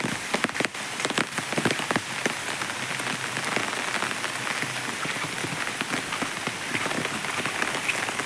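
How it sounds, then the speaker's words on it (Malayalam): Steady rain pours down on a paddy field, drumming densely on surfaces with constant close patter and no voices. "നല്ല മഴയൊക്കെ പെയ്യുന്നുണ്ട്"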